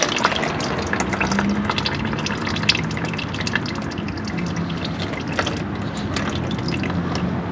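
Transmission fluid pours and drips steadily from a Chrysler transmission pan into a catch container, a continuous liquid splatter with scattered drips over a busy garage background.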